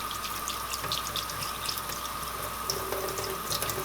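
Slow, steady stream of tap water running over a strainer while washing blue tomato seeds, a continuous close splashing hiss with a faint underlying tone.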